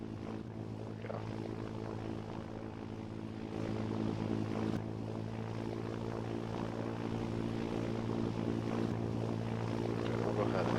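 Steady drone of a propeller aircraft engine taxiing in a flight video game, a constant hum that swells slightly partway through, with no talking.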